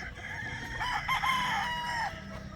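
A broodcock rooster of the Boston Overmitra line crows once, a clear drawn-out call standing over a steady farmyard background.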